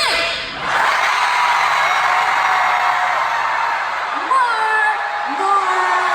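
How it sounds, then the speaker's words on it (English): A concert crowd screams and cheers in a loud, sustained roar of high voices that swells and holds for several seconds, with a few whoops standing out near the end. "Everybody, scream!"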